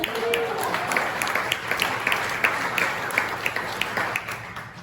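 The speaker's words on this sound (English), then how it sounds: "Give yourself a round of applause" Audience applause at a Rotary club's 100th anniversary celebration: a steady, fairly distant wash of many hands clapping that holds for about five seconds with small crisp peaks.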